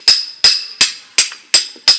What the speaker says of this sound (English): You can also try to split the stones here.